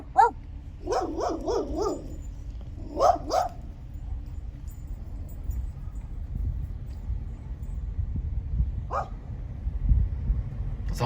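A dog barks in quick bursts: a single bark, a rapid run of several, a pair, and one more later, fairly close over a low background rumble with no talk.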